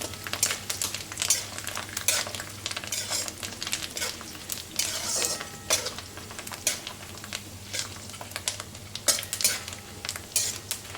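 Dry scraping and clinking of a spoon stirring spices and curry leaves in a pan, with a steady low hum and soft sizzling throughout, no voices.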